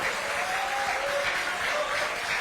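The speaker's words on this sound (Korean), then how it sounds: "박수 한번 주십시오." Steady applause from a crowd at a People Power Party gathering in South Korea, a dense wash of clapping that holds evenly throughout.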